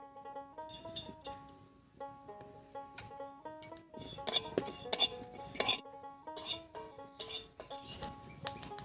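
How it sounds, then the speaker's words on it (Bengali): Metal utensil scraping and clinking in a dry pan roasting whole coriander, cumin and fennel seeds, irregular stirring strokes with light rattles, close by, no talking. "এবার শুকনো খোলায় কয়েকটা মশলা ভেজে নেব"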